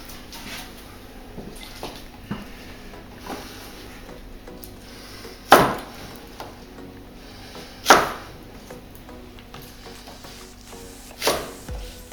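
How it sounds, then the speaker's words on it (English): A knife cuts spring onions on a board: a few sparse, sharp chops spread over about twelve seconds, close and fairly crisp, with light kitchen background noise between them. "I want to start preparing the spring onions."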